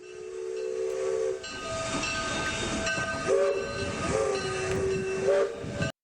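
A train in a CS:GO surf map rumbles past with hissing steam and a shrill whistle sounding several times, loud and close, with no talking.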